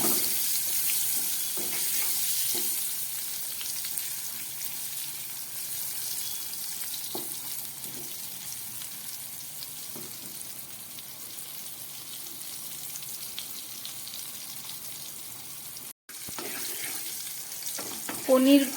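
Pointed gourd pieces fry with salt and turmeric in oil left from frying paneer pakoras, giving a faint, steady sizzle with a few soft stirring clicks and a brief clatter near the end.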